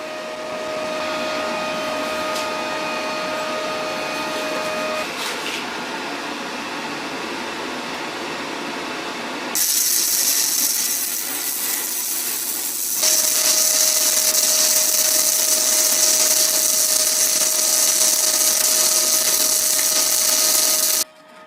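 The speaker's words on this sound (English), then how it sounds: "Now for welding the fillet weld, I've lowered the current a bit to 55 amperes." MIG welding of a fillet weld on thin sheet metal with a Parkside PMSG200 at about 55 amps: a steady, loud crackling hiss that grows harsher and brighter partway through, continuing without a break until it stops abruptly at the end.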